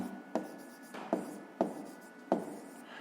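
A pen marks paper during a fifth-grade maths exercise: four distinct short scratchy strokes spaced about a second apart, close and quiet, with no talking.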